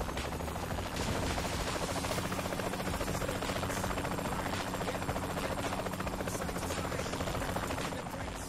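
A helicopter in the video game Saints Row The Third: a steady, loud, close rotor chop and engine drone filling the whole stretch, with faint gunfire-like crackles mixed in and no talk.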